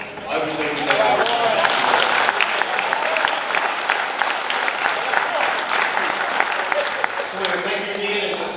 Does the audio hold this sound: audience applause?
yes